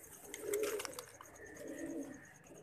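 Pet pigeons, a round-bodied male and a slender female, giving soft throaty coos close by, two low rolling calls over a quiet background.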